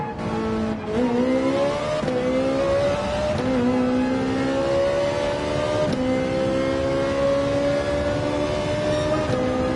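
A race car in Gran Turismo 7 roars loud and close as the driver repeatedly downshifts for engine braking, the engine pitch rising and falling in stepped surges, with occasional tire squeal.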